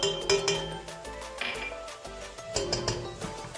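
A spoon scrapes and clinks against a pan while stirring sautéed tomato paste with tomatoes, salt, pepper, thyme and cumin, in a steady run of close metallic taps and scrapes.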